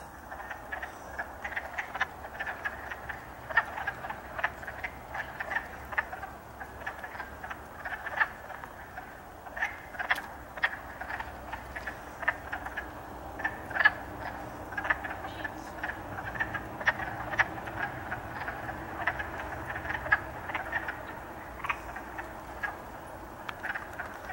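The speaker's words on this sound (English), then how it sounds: "This could be the sound of the wood frogs." Distant wood frogs call in a steady chorus of short, clucking croaks, repeating irregularly over a quiet spring background.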